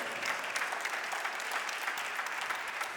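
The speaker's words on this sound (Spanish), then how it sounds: "Den un aplauso fuerte al Señor." A church congregation applauds the Lord during a Spanish-language sermon, with dense, steady clapping that holds at an even level for the full stretch and has no speech over it.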